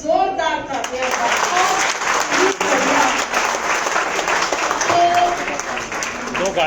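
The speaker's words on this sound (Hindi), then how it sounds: "जोरदार तालियां।" Loud, sustained applause from a crowd fills the room, a dense wash of clapping with a few voices calling out over it.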